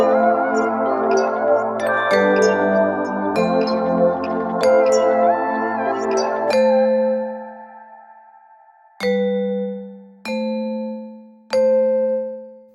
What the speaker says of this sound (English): I'm gonna add a second vibraphone again, which plays this